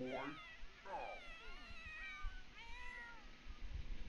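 Several cats meow in a Sims household, a string of drawn-out, wavering mews one after another over faint background game sound and low bumps.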